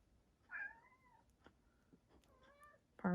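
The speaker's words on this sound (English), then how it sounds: "our kitty cat, seems to think he needs to go outside" A house cat meowing to be let outside on a rainy day: a clear wavering meow, a softer second meow, then a sharp louder cry at the end, all close and fairly quiet.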